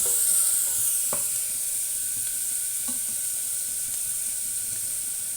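Onions browning in a pan for a jackfruit seed, potato and tomato masala curry give a steady, close hiss of frying with a faint clink or two of stirring, no voices.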